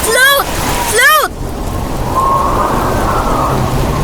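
Rain and thunder effects in a radio drama storm scene, a steady, loud rush of rain with a low rumble beneath, opening under two short wavering cries.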